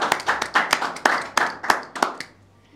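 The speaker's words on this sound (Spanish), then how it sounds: "Un aplauso por lo que estamos aquí." A studio audience on a talk show gives a short burst of sharp, close hand claps, about a dozen distinct slaps in quick rhythm that stop abruptly after two seconds.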